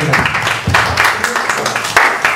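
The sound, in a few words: audience applause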